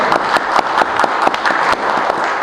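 Audience clapping at a Telangana Formation celebration gathering, a steady, dense patter of many hands filling the space, fairly loud and continuous with no voices over it.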